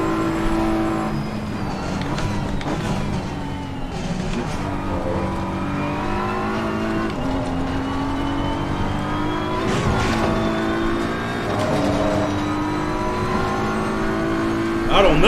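A BMW race car in Assetto Corsa Competizione, driven with Fanatec Clubsport V3 pedals: a loud, close engine revving up and down through repeated gear changes, with occasional tire noise and some talk over it.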